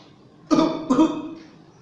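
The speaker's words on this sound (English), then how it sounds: "We will cough continuously." A person coughs twice in quick succession, close and fairly loud, each a harsh throaty burst, the second trailing off into a faint breath against a quiet background.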